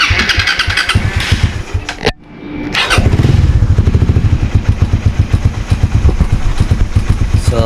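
A Suzuki Raider 150 Fi motorcycle cranks briefly, cuts out for a moment, then fires up and settles into a loud, close, steady putter of rapid idle pulses with no talking.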